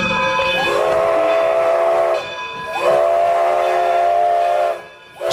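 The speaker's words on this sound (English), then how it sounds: "Steam powered railroad cars," Loud, sustained steam whistle blasts from a steam-powered railroad engine, two long sustained tones separated by a brief pause, heard close and alone.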